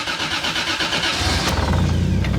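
A car engine cranks with a rapid rhythmic whirr of the starter, then catches and settles into a loud, close, low idle rumble.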